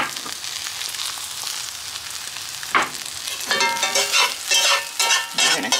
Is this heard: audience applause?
no